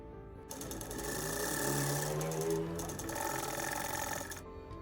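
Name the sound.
sewing machine stitching lehenga frills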